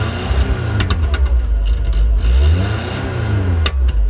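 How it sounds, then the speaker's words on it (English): The engine of a 46-year-old car idles roughly with a possible exhaust leak, a loud, deep, throbbing rumble that carries uneven pulses and a few sharp ticks over its whole length. "Do I hear an exhaust leak?"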